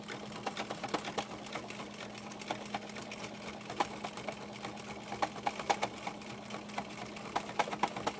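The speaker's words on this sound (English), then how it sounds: "And now I start quilting again." Home sewing machine stitching during free motion quilting, a quiet, rapid needle patter that runs continuously with small bursts of speed, close by and with no talk.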